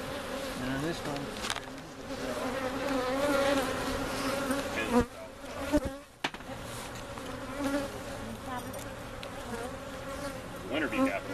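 Honeybees swarm around open hive frames in an outdoor bee yard, a steady close buzzing drone with shifting pitches, occasional handling knocks and faint background voices.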